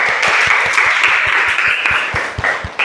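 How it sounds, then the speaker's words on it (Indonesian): A classroom of students applauds two classmates after their design presentation in a visual communication design lesson, steady dense clapping with a regular rhythmic beat, close and loud throughout. "kita tepuk tangan untuk Santi dan Tere"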